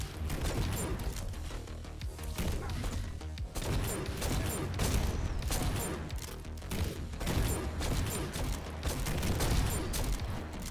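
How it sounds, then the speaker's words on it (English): Rapid-fire revolver gunfire in the shooter game GTTOD: Get To The Orange Door, a dense, loud, continuous barrage of shots with crashing impacts and mechanical clatter throughout. "Rapid fire revolver is absolutely fogging."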